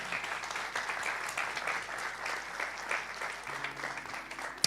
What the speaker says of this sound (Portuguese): Só quem crê, dê o melhor aplauso ao Senhor para celebrar.